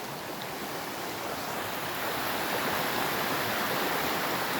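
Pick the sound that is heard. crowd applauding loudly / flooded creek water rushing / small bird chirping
flooded creek water rushing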